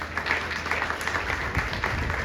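A church congregation claps for the Lord during a Hindi sermon on the Book of Esther, a loud, uneven patter of many hands with scattered sharper claps over a low murmur.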